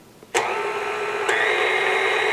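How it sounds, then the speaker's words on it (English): Electric mixer switching on to whisk whipping cream and powdered sugar for a strawberry trifle, a steady loud whirring motor that jumps slightly in pitch partway through, alone and close. "get this whisking away here until it becomes nice and thick"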